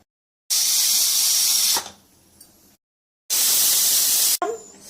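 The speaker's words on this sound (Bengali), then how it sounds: "ডালটা 2টো সিটি দিয়ে নামিয়ে নেব।" A pressure cooker cooking dal on a gas stove lets off steam in two loud, sustained hissing bursts, each lasting a second or more, with quieter rattling and bubbling between them.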